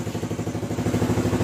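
A Honda CT110 motorcycle engine runs steadily with holes in its exhaust, giving a loud, rapid, even putter that carries through the whole moment without any talk.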